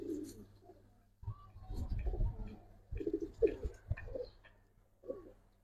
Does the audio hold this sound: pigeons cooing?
yes